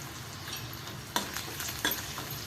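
Onion sautés in a pan with salt, a low continuous sizzle punctuated by three sharp scraping stirs of a spatula, close and moderately quiet with no voices.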